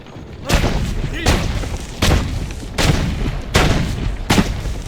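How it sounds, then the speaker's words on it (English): Gunshots in an Assassin's Creed game, five loud sharp blasts spaced about a second apart over a continuous background of game noise. "Why are the shots so loud?"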